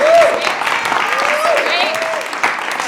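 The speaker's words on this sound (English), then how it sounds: "huge round of applause for Sacred Fools" Audience applause at a workshop for a theatre festival, a steady wash of clapping for the host venue Sacred Fools that lasts the whole stretch, while a voice talks over it at moments.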